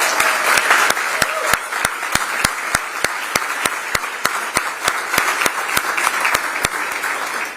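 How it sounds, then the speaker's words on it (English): Sustained audience applause for former Mayor Mary-Ann Baldwin at her portrait unveiling, a loud, dense wash of many people clapping throughout, with crisp individual claps repeating at a steady rhythm close by. "So let's just give former Mayor Mary Ann Baldwin a round of applause."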